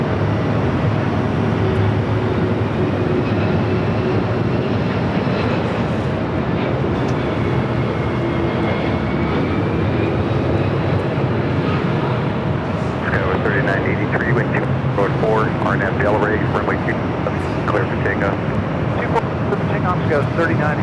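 A United Boeing 777 arriving from Newark touches down on runway 24 right at LAX, a continuous loud jet roar with rumbling and a whining engine tone that shifts in pitch, with people talking over it toward the end.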